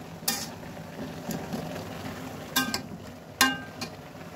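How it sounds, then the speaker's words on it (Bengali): Beans and potatoes fry with bottle gourd greens in a pan, a low sizzle broken by a few sharp clinks of a utensil stirring and scraping the metal, quiet and close. "সিমটা শাকটা ভাজি করার জন্য দিয়ে দিছি।"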